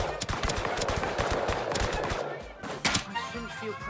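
Rapid gunfire rattles in close bursts during a Deceive Inc match, the shots clustered in a dense volley before a brief lull and a final few sharp cracks.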